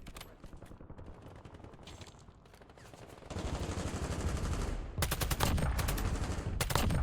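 Hip-fired automatic gunfire in a shooter game, rapid loud bursts and sustained fusillades close by, with mechanical clatter, dominating the second half.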